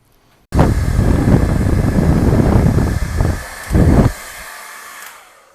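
Loud, roaring wind buffeting the microphone, a steady rushing blast with a couple of stronger gusts before easing off.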